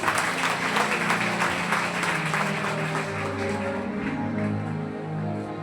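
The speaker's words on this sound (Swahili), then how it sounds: "Pigie Yesu makofi" A church congregation at a Sunday prayer service claps and applauds in a dense, sustained wash of hands that gradually thins toward the end.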